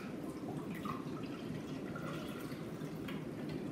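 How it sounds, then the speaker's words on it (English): Water trickles and splashes steadily into the reservoir of a Black & Decker single-serve coffeemaker, a continuous close filling sound with no voices. "I'm gonna go ahead and fill the water reservoir."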